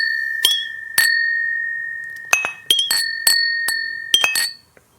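Two small glass sample bottles clink together repeatedly in a toast, a series of bright, ringing taps with long sustained tones that decay between strikes, some hits doubled in quick succession, with no talking.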